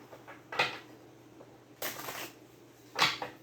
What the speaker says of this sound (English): One more shuffle, you guys.